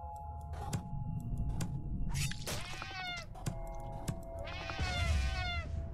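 Cartoonish cats meow repeatedly in the horror puzzle game Slayaway Camp, several short rising and falling cries spread across the stretch with a longer wavering call near the end, over a steady backdrop of game music.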